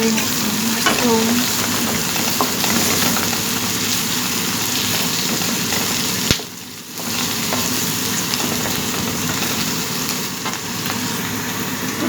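Mushrooms hitting a pan of browned garlic in hot oil, a loud and continuous sizzle with stirring scrapes, briefly dipping at one point before returning at full strength, and nobody speaking.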